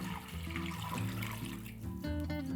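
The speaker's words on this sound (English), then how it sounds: "take the braising liquid that I just whisked together, and you're just gonna pour that over the top" Braising liquid poured over beef in a slow cooker, a short soft splashing and gurgling pour at low volume with no talk.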